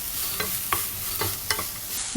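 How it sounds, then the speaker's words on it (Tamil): Cooked rice mixed with turmeric being stirred with a spoon, regular scraping strokes about every quarter second over a faint steady hiss. "நல்லா மிக்ஸ் பண்ணி விடுங்க."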